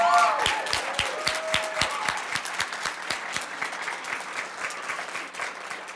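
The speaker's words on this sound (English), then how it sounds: "Let's give another round of applause for all of the great work this evening" Applause from the audience at a Poetry Out Loud regional recitation contest, steady dense clapping with a few sharper individual claps throughout, moderately loud.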